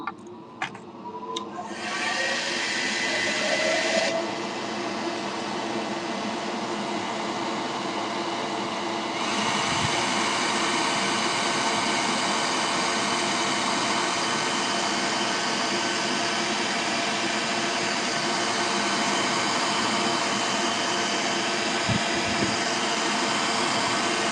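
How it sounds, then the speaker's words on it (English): A loud, steady whooshing roar of blowing air from an electric fan, starting after a few clicks and running continuously, with a shift in pitch partway through. "Turn the fan on, otherwise the dust flies out."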